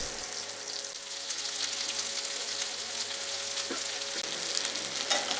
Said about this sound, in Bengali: এরপর দিয়ে দেব কেটে রাখা পেঁয়াজ